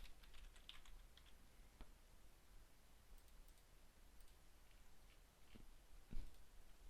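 Computer keyboard keys clicking in a quiet room while shortcuts are entered in Blender, soft irregular taps spread throughout with a few sharper, louder clicks near the end.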